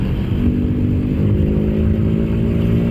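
Motorcycle engine with a remapped stock ECU, heard from inside a GM New Imprezza helmet while riding above 60 km/h: a steady, loud, muffled low drone mixed with wind rush, unbroken for the whole stretch.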